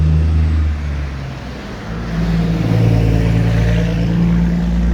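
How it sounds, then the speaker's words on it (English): A tractor trailer truck rolls past on a nearby road beside a garden, its deep engine rumble and tire roar loud and steady, swelling again as it goes by. "tractor trailer."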